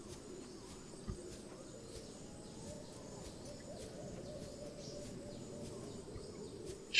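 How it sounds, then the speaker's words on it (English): Faint hooting, owl-like calls from birds in the Subnautica video game sound at regular intervals over a quiet, low ambient bed, with a brief louder sound at the very end. "Strange, I hear birds, but I don't see any."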